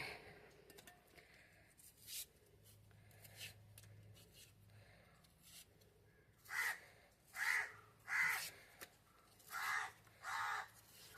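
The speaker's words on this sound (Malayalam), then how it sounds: "കാക്ക വിരുന്ന് വിളിക്കാൻ നിങ്ങളാണാവോ" A crow caws outdoors near a home kitchen, about five loud, clear caws in an evenly spaced run after quieter background sounds, close by.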